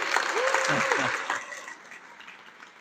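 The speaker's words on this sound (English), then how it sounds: "You can give him a round of applause." Brief audience applause at a National Federation of the Blind event, with a voice speaking over the clapping as it tapers off.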